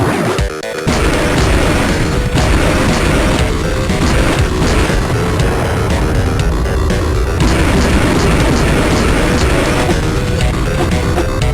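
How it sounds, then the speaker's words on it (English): A tank exploding in the Game Boy Advance game Turok: Evolution, heard as a loud, dense burst of crashing, booming game noise that carries on steadily for several seconds with no talking. "And the tank explodes."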